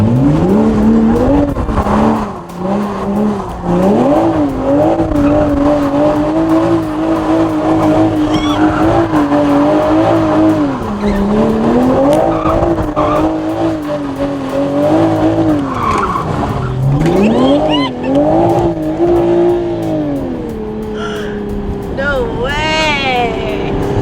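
An A91 Toyota Supra engine revs hard with no rev limiter, rising and falling in pitch while tires squeal and skid continuously, loud and close, as the car spins donuts.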